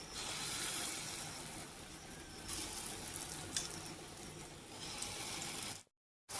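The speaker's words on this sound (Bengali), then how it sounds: "তো এবারে আমি এই যে ডালের বড়াগুলো ভেজে নিচ্ছি।" Lentil fritters frying in a pan of oil make a steady, fairly quiet sizzle with faint crackles, running continuously before a brief dropout near the end.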